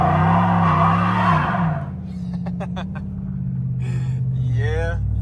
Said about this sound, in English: I'm a little curious if this thing will do a burnout.